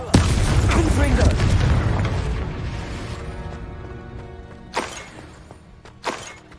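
In the Hogwarts Legacy video game, the Confringo blasting spell bursts with a loud, rumbling boom that fades away over several seconds, followed by two sharper cracking impacts.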